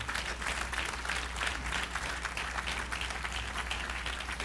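An audience claps steadily at Konami's 2010 E3 press conference, a dense, continuous wash of applause from a large crowd filling the hall with no pauses.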